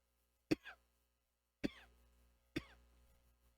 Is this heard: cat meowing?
no